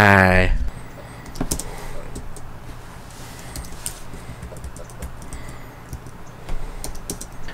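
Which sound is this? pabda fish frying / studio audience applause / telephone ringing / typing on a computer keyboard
typing on a computer keyboard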